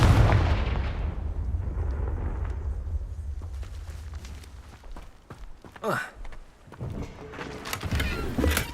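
Confringo blasting spell explosions in the video game Hogwarts Legacy, a loud booming blast at the start that rumbles and fades, followed by scattered impacts and whooshing bursts later on.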